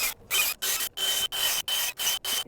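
A bulb auger turns into garden soil to drill planting holes, giving seven rough grinding, rasping bursts in a steady rhythm with short gaps between them. The sound is close and fairly loud, and no one speaks.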